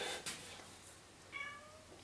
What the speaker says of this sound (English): I think you can hear my cat in the background.